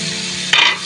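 Chopped tomatoes hit a hot pan of spices and fry with a steady, close sizzle and a brief stirring scrape.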